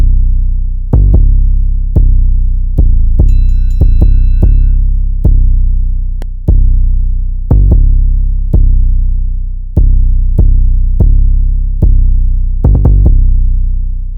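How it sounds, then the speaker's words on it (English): A trap beat built on a deep 808 bass pattern: booming sub-bass hits in an irregular, syncopated rhythm, each one decaying, with quick repeated hits in places and a few faint higher ticks. The pattern plays loud and alone, with no voices. "I just took that same 808 and I created another pattern that kind of creates a little bit of variation in terms of how the 808 sounds"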